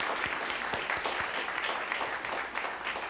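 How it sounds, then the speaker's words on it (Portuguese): A congregation applauds steadily, a dense wash of many hands clapping at once, sustained throughout with no voices standing out. "aplauda o Rei vivo."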